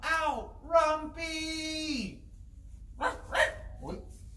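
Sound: dog barking twice

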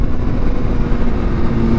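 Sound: Kawasaki ZX6R motorcycle with Austin Racing GP1R exhaust riding

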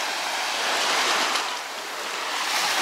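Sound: sea waves breaking on the shore in Ayia Napa, Cyprus

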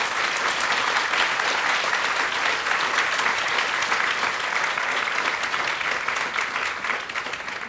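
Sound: audience applause for panelists

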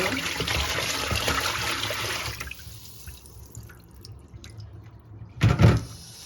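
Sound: yellow brine being drained from cracked olives

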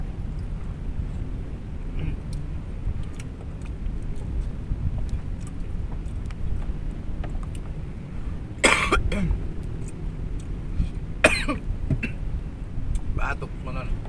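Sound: person coughing

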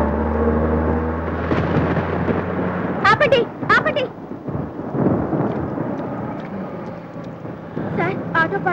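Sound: rain with thunder in a movie scene

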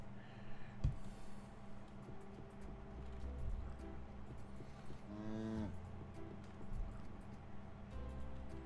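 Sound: cow mooing in Sun Haven video game

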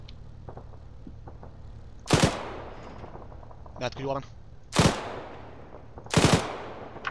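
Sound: machine gun fire in the video game Arma 3

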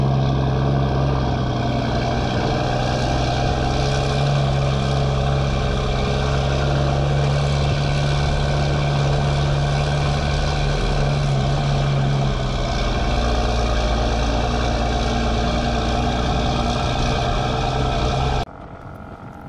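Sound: Volvo truck engine during a hard pull while hauling stone

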